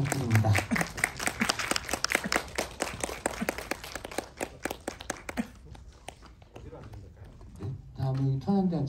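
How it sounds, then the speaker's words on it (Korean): A theatre audience claps for arriving actors, a burst of brisk applause that thins out after about five seconds before voices take over. "박수 부탁드립니다"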